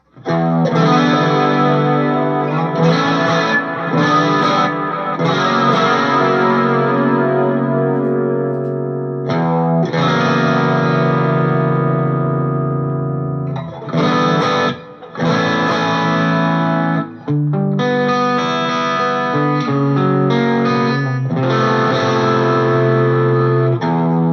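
Electric guitar played through a Line 6 Powercab 112+ speaker, sustained distorted chords with chorus-like shimmer, loud and close, with brief gaps between phrases and no talk.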